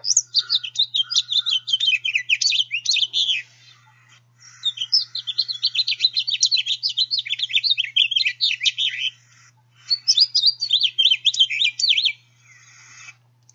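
A songbird from the cardinal, blackbird or finch groups sings rich, slurred back-and-forth warbling notes in three long bursts separated by short pauses, clear and close against a quiet background.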